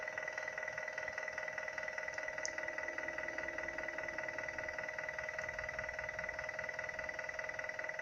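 A SIEG SX3 milling machine's X-axis drive motor runs at its slowest speed, giving a steady, continuous electric whine and hum at an even level throughout, with no voices.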